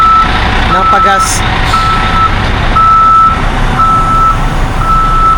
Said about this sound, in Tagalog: May tour bus dito sa gilid guys. Sobrang ingay.